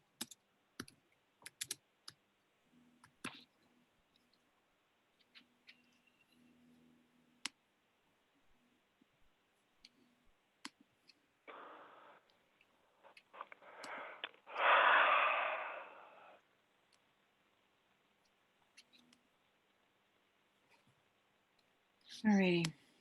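Typing on a computer keyboard during an online meeting, scattered quiet key clicks and taps spread over the clip, with a few louder rustling bursts and breaths between them.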